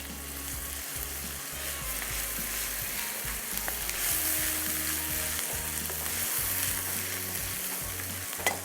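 Spices with ground red chilli and salt fry and roast in a pan, giving a loud, continuous sizzle with occasional scraping and clinks, close up and without speech.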